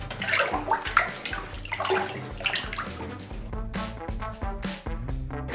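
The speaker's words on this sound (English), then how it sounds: "So I have a huge jumbo spoon here, and it is time to stir up all the slime in the bathtub" A jumbo spoon stirs a full bathtub of thick slime, giving close, sloshing, gloopy splashes in an uneven churning rhythm with no voices.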